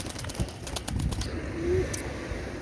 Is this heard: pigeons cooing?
yes